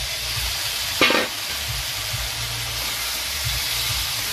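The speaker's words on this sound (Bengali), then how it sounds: "দিয়ে আলু ফুলকপিটাকেও একটু কষিয়ে নেব" Potatoes and cauliflower sauté with spices in a pan for a cauliflower and tilapia curry, giving a steady soft sizzle with one brief louder scrape of stirring near the start.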